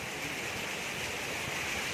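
A steady, faint rush of falling water from a waterfall on the trek route near Kedarnath, heard as continuous even hiss and roar from a distance with no talking.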